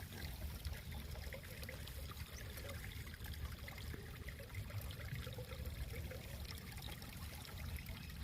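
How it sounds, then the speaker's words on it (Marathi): A shallow stream runs over stones in a village crab-catching spot, a steady, close trickling and burbling flow that continues evenly without pause. "एकदम मस्त असं पाणी सुद्धा वाहतं या साईडने"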